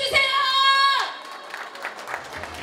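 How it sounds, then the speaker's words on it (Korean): At an Incheon Yeongnam hometown association year-end party, a sustained musical or sung tone fades and the audience breaks into moderate, scattered applause. The clapping sounds somewhat distant and thin, with no talk over it. "박수 주세요."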